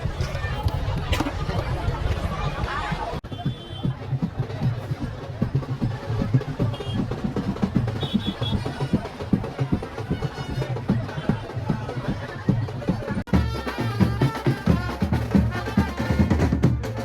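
A large crowd packs the Ekvira Aai palkhi procession, a dense, steady hubbub of many voices and chatter running loud and close for the whole stretch, with surges of activity and no single voice standing out.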